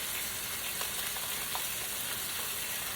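Meat for a copycat Taco Bell Mexican pizza frying in a pan, giving a steady, even sizzle with a soft crackle throughout and no voices.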